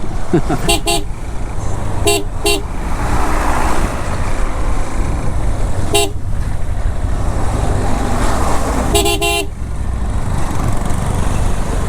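Congested road traffic near Ashulia bazaar and bridge on the way from Zirabo to Gulshan, a loud continuous engine rumble broken by several short bursts of car and bus horn honking, with a voice talking over it.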